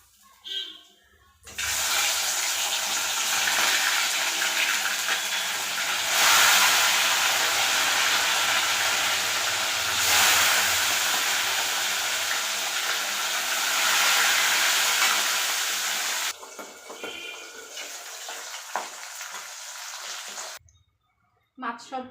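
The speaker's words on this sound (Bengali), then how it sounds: "তেল গরম হয়ে গেছে, সবার প্রথমে পার্শে মাছগুলো ভেজে নেব" Parshe fish frying in hot oil, a loud, steady, broadband sizzle that holds for many seconds before easing off, with brief quieter stretches at the start and end.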